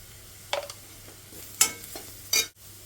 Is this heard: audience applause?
no